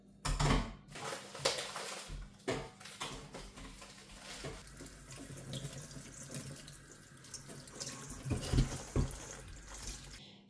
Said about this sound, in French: Maintenant, je vais laver les légumes.